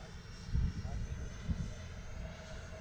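An FMS Avanti S electric RC jet makes a low pass overhead, a steady whooshing ducted-fan hum with wind buffeting in the background, while someone talks nearby.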